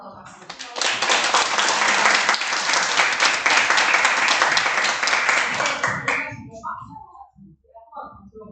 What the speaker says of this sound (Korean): 오늘 우리에게 생각에 열어주신 예경 선생님 한 번 더 박수